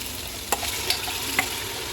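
A mint and coriander paste fries in oil for donne biryani, giving a soft, steady sizzle broken by three brief, sharp clicks of stirring.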